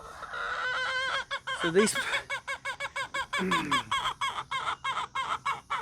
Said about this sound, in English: these little Polish chickens have got to look like the most stupidest chickens there is